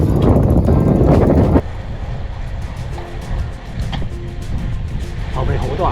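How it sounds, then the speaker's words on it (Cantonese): Strong tailwind buffets a cyclist's microphone during an east-coast Taiwan road ride near Fuli, Hualien, a loud roaring gust at first that drops to a lighter, fluttering rush with road and bike noise. "估唔到今日個順風係咁犀利"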